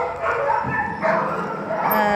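Dogs in animal shelter kennels bark, yip and whimper in a loud, overlapping chorus, several animals calling at once with echoing, irregular bursts close by.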